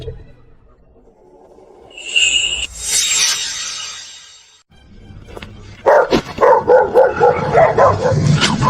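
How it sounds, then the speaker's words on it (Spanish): Several dogs barking in a burst of loud, close, rapid yaps and barks that follow a quieter stretch of other noise, the barking repeated in quick overlapping volleys. "¿De dónde salieron estos perros?"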